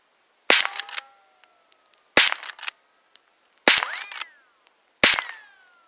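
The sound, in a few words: gunshots fired at a paint can target at distance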